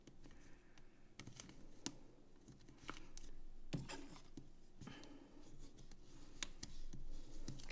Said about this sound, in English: I'm going to fold and burnish.